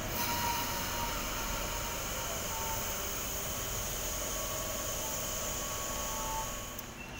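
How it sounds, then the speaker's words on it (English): A Sydney K-set suburban train pulls out of the platform on a city-bound service, producing a steady rumbling hum with a high electric whine that holds throughout and eases slightly at the end. "City-bound service now departing from platform number 1. K60 leading half."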